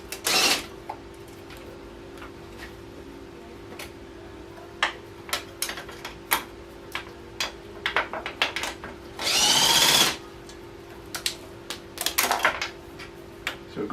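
Hand tools loosen brackets on top of a KTM 300 dirt bike motor, with scattered metallic clicks and ratchet ticks over a steady hum, plus a couple of louder bursts of whirring or rattling, close up and without speech.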